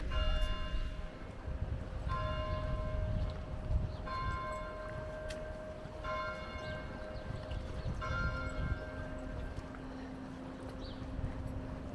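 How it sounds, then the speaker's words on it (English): Church bells ring out at noon in St Jean Pied de Port, their tones struck in steady repeating rounds about every two seconds, moderately distant over a constant outdoor background wash. "The bells."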